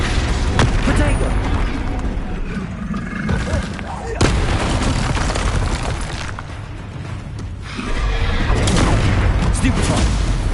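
Spell blasts from Confringo and Incendio in Hogwarts Legacy go off repeatedly as booming, roaring bursts over dense, continuous combat noise, with several sharp hits through the stretch.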